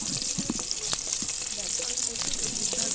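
Half-boiled potatoes frying in a pan for a white potato curry, a steady close sizzle with scattered stirring clatter, and faint speech drifting underneath.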